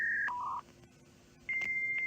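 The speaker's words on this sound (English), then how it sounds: "I'm dialing in." Telephone keypad dialing tones from a dial-up internet connection, a few steady electronic beeps with a short pause between groups, fairly quiet over a low background hum.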